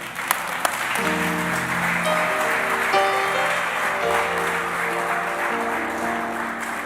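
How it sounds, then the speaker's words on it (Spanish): A church congregation applauds in a steady, moderately loud wash of clapping, underpinned by sustained keyboard chords that shift throughout. "Denle un aplauso a Jesús por eso."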